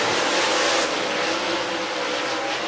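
Dirt track race cars on hot laps at Talladega Short Track, a dense, continuous engine roar that stays loud and steady throughout, with no commentary heard.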